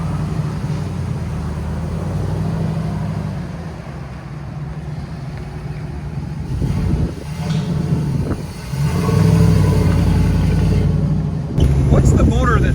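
A 1983 Jeep Scrambler with a swapped 5.3L LS V8 rumbles steadily with a deep exhaust note that rises toward the end, while people talk over it.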